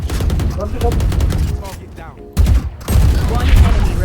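Gunfire in the video game Valorant, with repeated rapid shots in bursts, loud and close, mixed in with excited voices talking over the action.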